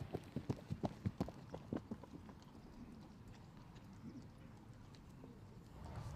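A horse trots on a firm trot-up strip at the Blenheim Palace International Horse Trials, with a crisp rhythmic run of hoofbeats up close for a few seconds that then fades into quiet outdoor ambience with faint birdsong.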